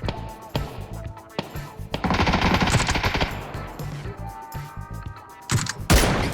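Gunfire in the video game PUBG: rapid automatic bursts and sharp single shots, loud and close, crackling over a busy game mix with players talking.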